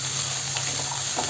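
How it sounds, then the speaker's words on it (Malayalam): Green peas are stirred into sizzling Kozhikode thattukada style egg masala, a steady close frying hiss with faint scraping under it and no talk. "ഇതുകൂടി ചേർത്തിട്ട് ഇത് നന്നായിട്ടൊന്ന് ഇളക്കി യോജിപ്പിച്ച് കൊടുക്കാം."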